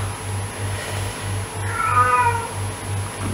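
An ageing house cat meows indoors, a drawn-out whining cry in the middle of the clip over a steady low electrical hum, with no talking.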